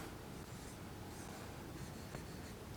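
Pen writing on paper in a classroom, a steady faint scratching and rubbing close up over a constant low background hiss.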